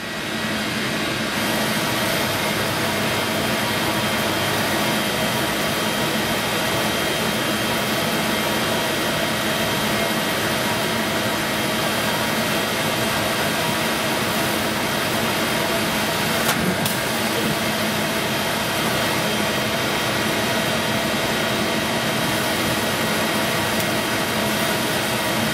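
Laser cutter with air assist set about half on, cutting 3mm acrylic, a steady continuous whirring hiss of fan and airflow that holds unchanged throughout.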